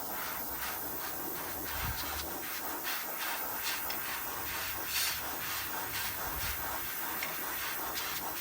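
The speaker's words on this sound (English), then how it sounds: "So what we'll do is we'll just dry it off with the airbrush." An airbrush blows a steady hiss of air close up to dry a freshly painted fishing lure, the airflow continuous with slight fluctuations and no voices.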